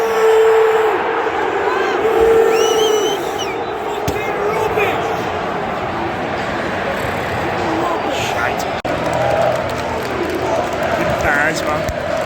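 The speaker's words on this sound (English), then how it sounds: "Crowd goes wild." Football crowd at a Blackburn Rovers home match against Sheffield Wednesday, a steady loud roar of supporters cheering and chanting through the whole stretch with a few whistles and shouts, heard close up from the stands.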